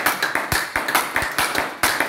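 A congregation at a Sunday church service claps in a loose rhythmic beat, sharp individual hand claps repeating several times a second, fairly close and without talk.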